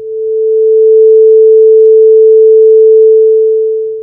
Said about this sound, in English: Let's play a 440 hertz sound wave.